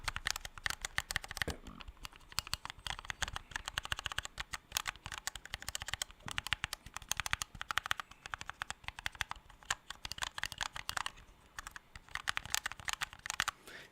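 Rapid, continuous typing on a keyboard with silent keys as a sound test, producing a dense stream of soft, muffled keystrokes at close range, with no one speaking.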